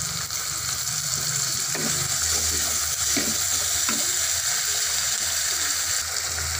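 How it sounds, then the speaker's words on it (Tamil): Onions sizzling and frying in a pan for a gourd and cowpea curry, with a steady hiss and occasional stirring scrapes, close and continuous. "வெங்காயம் சேர்த்து 2 நிமிஷம் ஆயிடுச்சு வதங்கிடுச்சு"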